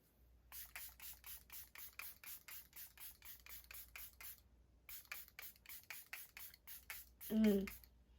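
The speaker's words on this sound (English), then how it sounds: "You can never put on too much setting spray, honestly." Rapid bursts of a fine setting-spray mister on a face, pumped in quick repeated puffs with a short pause midway, close up and fairly soft.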